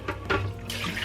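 Rinsed lentils poured into a large soup pot, a short wet splash and slosh of grains and water tumbling in, close and brief with no talking.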